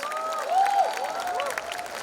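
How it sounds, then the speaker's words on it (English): Audience applause and cheering at the 10th Mumbai Comic Con in the Jio World Convention Centre, a steady wash of many hands clapping from a large indoor crowd with a few brighter whoops rising above it. "Wonderful round of applause, guys."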